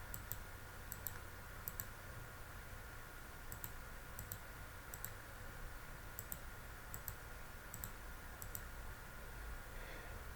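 Repeated light clicks of a computer mouse while editing a manuscript file, arriving in quick pairs and small bursts over a steady low background hum, close and faint.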